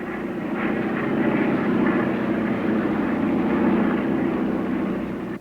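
Vintage airplanes flying an air show demonstration, a steady loud engine drone that holds throughout with a slight swell in the middle and no talk.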